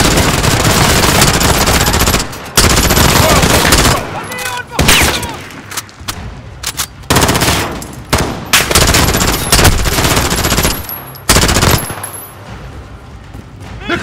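Rapid bursts of machine gun fire rattle loudly and close, broken by short pauses, with occasional shouted voices between volleys in a Modern Warfare game battle.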